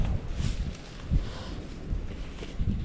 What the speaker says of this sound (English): this wind is extremely uncooperative